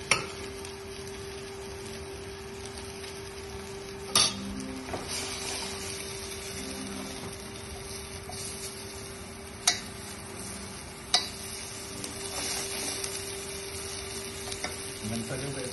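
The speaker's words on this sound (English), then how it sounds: "just need to warm up a little bit of olive oil. Just going to pop our beans" Beans sizzling in warm olive oil in a pan, a steady close hiss with a few sharp clinks of utensils against the pan, and no voices.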